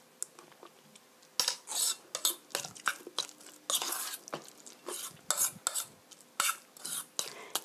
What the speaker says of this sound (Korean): 이렇게 골고루 섞어주시고요. 마구 섞어주세요.